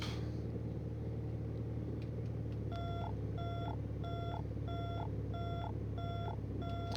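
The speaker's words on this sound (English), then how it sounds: "Landing gear alarm identified." Inside an SF260D aircraft cockpit, the landing gear warning alarm sounds as a regular series of loud, evenly spaced beeps over a steady engine drone.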